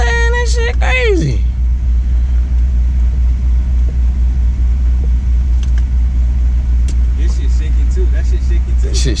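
A car engine rumbles steadily at close range with a deep, constant drone. A voice talks briefly at the start, and small rattles are heard throughout.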